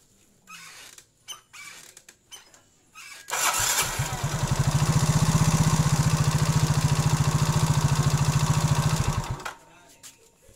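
A Yamaha motorcycle engine cranks after a few clicks and catches, settling into a steady, close, chugging idle for several seconds before being shut off.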